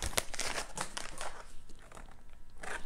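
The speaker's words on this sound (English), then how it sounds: "And I'm gonna snip the end away." Close, crisp crinkling and snipping of a disposable plastic piping bag being cut about a quarter inch from its tip for cake decorating, with a few sharp bursts early and softer rustling after, no voices.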